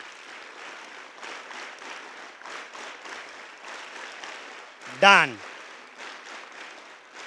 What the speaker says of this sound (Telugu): చూసారా, రెగ్యులర్గా మనం క్లాప్స్ కొట్టే విధానాన్ని మారిస్తే ఎంత బాగుంది.